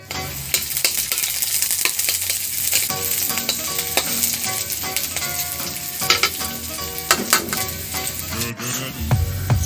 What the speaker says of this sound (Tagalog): Bawang. Ihulog sa mainit na mantika hanggang sa mag-brown siya.